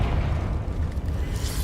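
A Confringo explosion spell cast in Hogwarts Legacy, a heavy, rumbling blast with deep low-end boom and crackling debris that fills the short moment.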